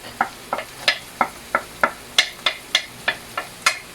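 Garlic sautés with softened onion in a pan for menudo under a light sizzle, while a spatula scrapes and taps the pan in a steady rhythm of about a dozen strokes, close and without talk.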